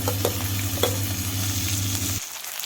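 Onion and potato frying in a pan for aloo gobi, a loud, steady sizzle with a low hum and a couple of stirring taps, cutting off abruptly before the end.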